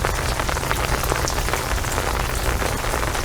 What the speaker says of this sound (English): the rain's coming down off the roof